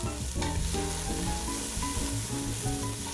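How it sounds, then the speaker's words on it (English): Diced sweet potato and chopped onion sauté in heated olive oil, a dense close sizzle with busy stirring scrapes all the way through and no voices. "We're going to saute this for 4 to 5 minutes."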